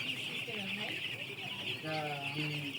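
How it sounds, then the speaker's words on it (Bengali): Broiler chicks on a farm, cheeping and clucking in thin repeated calls over a constant background hum, with a person talking nearby. "একটা খামারে আসছি, কত সুন্দর ব্রয়লার মুরগির বাচ্চা।"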